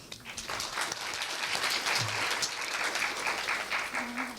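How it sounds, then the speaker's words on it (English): A conference audience at Korea University claps steadily throughout, a dense, even wash of applause with a brief low voice rising under it near the end. "Please give him another round of applause"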